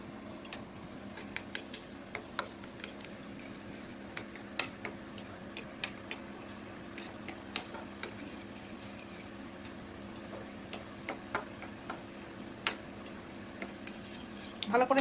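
Omelette eggs with onion, capsicum and salt are beaten in a bowl, a fork or spoon clinking rapidly and repeatedly against the side in steady bursts, close and fairly quiet.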